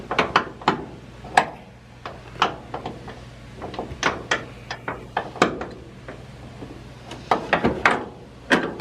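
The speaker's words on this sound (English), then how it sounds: "get the ratchet in a place where I can turn it" Ratchet wrench turning a bolt inside the driver door of an old rusty Dodge, giving repeated sharp metallic clicks in irregular bursts, close up, with a low steady hum underneath and no talking.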